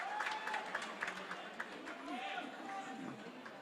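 Spectators at the Under-23 World Squash Championships grand final cheer and clap in a busy hall, a steady crowd roar with scattered claps and voices, heard faintly and at a distance.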